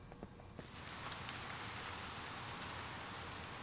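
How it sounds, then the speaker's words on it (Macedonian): Steady cartoon rain pours down at night, a dense even hiss that swells in after about half a second and holds at a constant level to the end, with no voices. "Цела ноќ врнеше и сега градината е многу мокра."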